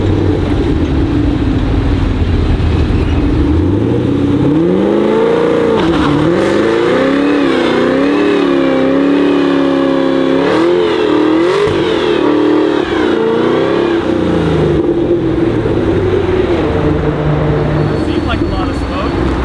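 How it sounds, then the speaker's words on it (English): A car does a burnout on Michelin 325 tires, its engine revving hard in rising and falling sweeps over a loud, continuous roar of spinning rubber, close and sustained for about twenty seconds. "it'll brake the car for me as I give it gas and hold it in place so it could burn some rubber off."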